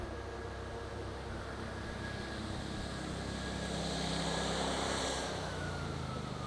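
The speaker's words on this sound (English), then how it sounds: "Jet blower." A jet blower used to clear a trail gives a steady, roaring broadband rush that swells louder around the middle and then eases slightly. No one talks over it.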